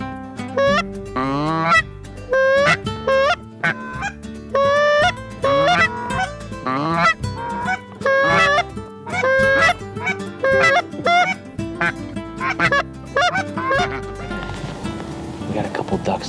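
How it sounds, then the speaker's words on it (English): A large flock of geese honking, many overlapping calls rising and falling nonstop, loud and close, with wind noise creeping in near the end. "we got 2 bunches of geese behind us,"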